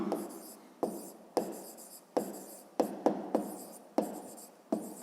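Pen or pencil writing a 5th-grade math solution by hand, close up: a steady run of scratchy strokes in short bursts with brief pauses, about eight to ten separate strokes, no talking.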